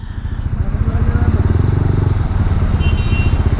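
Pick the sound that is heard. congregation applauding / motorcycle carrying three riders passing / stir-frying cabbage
motorcycle carrying three riders passing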